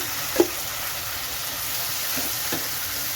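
Ginger garlic paste sizzling with sautéed onions for a squid roast, a loud even hiss with one brief clack near the start, no voices.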